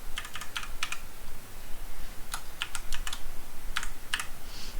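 Quick bursts of crisp key clicks on a computer keyboard while writing HTML list code, close and clear in short irregular runs over a faint background hiss.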